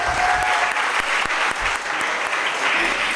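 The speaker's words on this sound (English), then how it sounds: "Applause, please." A seminar audience at a biotech skilling programme claps loudly and steadily for about three seconds, a dense, even wash of many hands close by.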